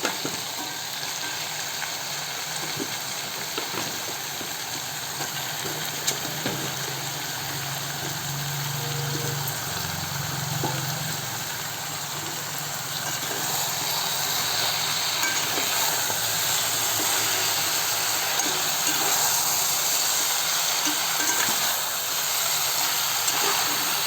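Goat head meat frying in oil in a home kitchen, a steady soft sizzle and hiss that keeps up throughout at low level, with faint stirring and no talk.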